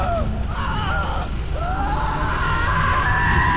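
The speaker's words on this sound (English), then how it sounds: "I hear screaming everywhere." Screams from a horror elevator video game, a few rising and falling wails carrying over a dense, steady rumbling game soundscape throughout.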